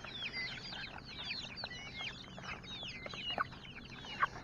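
Backyard chickens cluck and chatter while pecking at food from a hand, a steady busy flock close by with occasional wing flutters.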